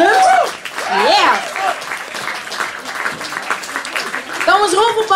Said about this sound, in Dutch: Een heel groot applaus voor de band.